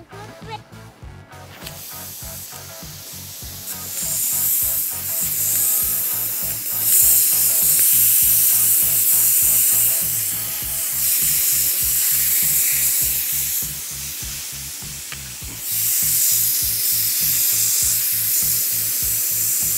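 Sprinkler heads hissing as water mist sprays out during winterization, a broad steady hiss swelling and fading in long stretches over a rhythmic pulsing compressor-like thump, with no talk.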